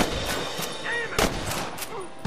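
Gunfire in Red Dead Redemption: a quiet, distant series of sharp shots, a few cracks spaced unevenly across the moment, with faint game ambience between them and no talk.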